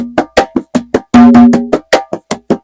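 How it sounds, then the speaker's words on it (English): Conga drums playing a marcha one-drum pattern with picoteo tone technique: a steady, loud run of crisp, close hand strokes with one ringing open tone in the middle. "Marcha is a one drum pattern that sounds like this."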